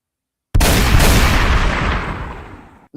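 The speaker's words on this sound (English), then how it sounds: "Gunshots?" A single loud gunshot-like blast bursts out after a short silence, its boom ringing and fading out over a couple of seconds.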